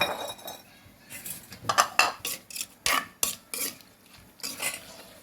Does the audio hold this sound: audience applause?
no